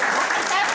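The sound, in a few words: applause for a speaker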